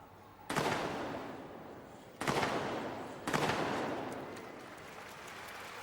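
Devonport field gun crew fire three rounds in a field gun competition: three sharp, loud blasts spaced a second or two apart, each trailing a long rumbling echo.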